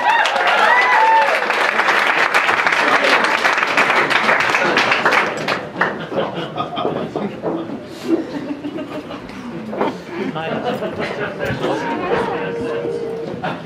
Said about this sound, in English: I want everybody to give a big round of applause for Patrick Harvey!